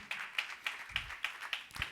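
A church congregation claps in a steady, even rhythm, about seven sharp claps in under two seconds, moderately close and with no voices over them.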